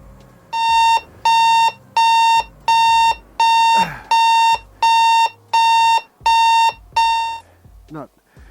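An Inmotion V13 electric unicycle speed alarm beeps loudly and high in a steady series of about ten evenly spaced pulses, each lasting roughly half a second, with faint background noise between.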